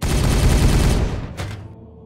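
Sustained gunfire in Warhammer 40000: Regicide, a dense loud fusillade of overlapping shots that rolls on for a second and then tapers away, with one last short burst before fading into quiet.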